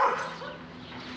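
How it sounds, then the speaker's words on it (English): An insecure dog barks in a quick run of repeated woofs, close and fairly loud at first, then trailing off into softer, ragged vocal sounds. "The whole barking that he's doing, woo, woo, woo, woo, woo, woo, it's not a secure bark."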